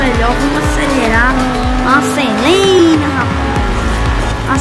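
A Lamborghini Huracan screams through a race in Forza Horizon 4, its engine note rising and falling with gear shifts while tires squeal repeatedly, loud and continuous, with someone talking excitedly over it.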